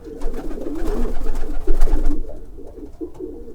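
Racing pigeons coo softly and repeatedly at close range, a series of low throaty calls with no talking over them.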